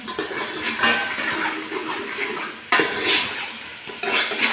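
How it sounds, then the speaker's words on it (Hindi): Potatoes are stirred into masala in a pot with a utensil, giving a close scraping and clattering against the metal in three uneven bursts, with no voices. "डाल रहे हैं हम आलू। आलू करते हैं मिक्स आपके सामने"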